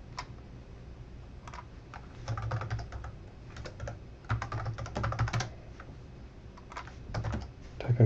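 Typing on a computer keyboard while configuring a Windows server: irregular bursts of close, crisp key clicks with short pauses, moderately quiet and alone without talk.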